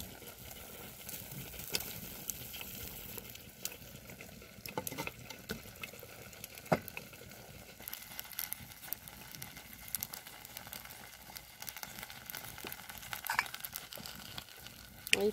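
Sweet potato leaves sautéing in a pan with a little added water give off a soft, steady sizzle and crackle with scattered pops, close and fairly quiet throughout, no voices.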